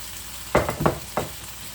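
Potatoes sautéing in olive oil in a pan, heard as three short bursts of frying sizzle and stirring over a quiet background, with no talk.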